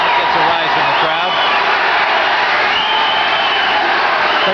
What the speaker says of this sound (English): That gets a rise from the crowd.